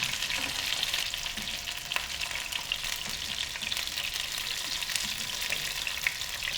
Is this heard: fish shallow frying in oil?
yes